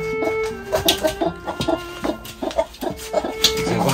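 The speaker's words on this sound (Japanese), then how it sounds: "あっちこっちからコッココッコの声が聞こえるな" Chickens cluck and murmur from several spots around a backyard coop, a steady overlapping flock chatter with repeated short calls, fairly close and moderately loud, no talking.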